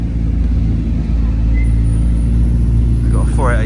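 A McLaren P1 hypercar drives past at Goodwood, a loud, steady low engine rumble that holds throughout, with crowd noise and a person talking over it.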